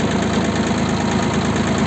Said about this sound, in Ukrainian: Дивимося на вихлоп, даю газу.